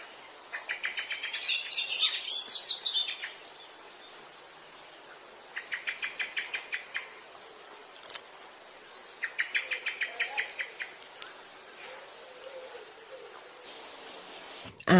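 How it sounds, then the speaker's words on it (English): A blackbird gives alarm calls in bursts of rapid, repeated chattering notes, three main volleys separated by quiet gaps, moderately near and with no talk. "This is an alarm call."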